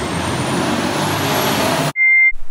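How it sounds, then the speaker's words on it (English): A big truck roars past close by for about two seconds as a loud, steady broadband rush, cut off abruptly and followed by a brief high electronic tone. "we got a big truck going by"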